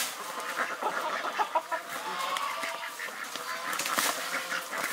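A plump duck and others quack and honk in a noisy, overlapping flock, with calls close by and steady throughout.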